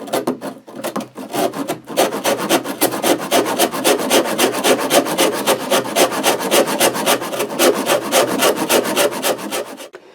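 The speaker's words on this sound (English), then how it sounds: "we're literally just hogging off a lot of material here, so just using a Shinto saw rasp" A Shinto saw rasp hogs material off a wooden guitar body in fast, loud, rhythmic strokes, a steady rasping back-and-forth scrape up close with no talking.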